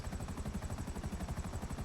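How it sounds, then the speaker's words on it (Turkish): An Akula helicopter in GTA 5 Online, its rotor thumping in a fast, steady rhythm with a continuous engine whine, close and even throughout, with no talking. "Gerçekten çok güzel bir helikopter diyebiliriz."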